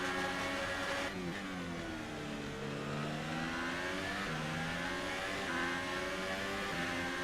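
An F1 race car engine in the F1 2018 video game revs continuously, its whining pitch rising and falling as it accelerates and eases off.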